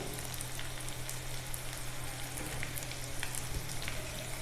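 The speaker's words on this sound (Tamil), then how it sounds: "இப்போ வந்து இதை நல்லா வதக்கி விட்டுருவோம்." Eggplant pieces frying in a pan for Tamil-style katharikkai poriyal, a steady close sizzle with crackling pops throughout and no talk.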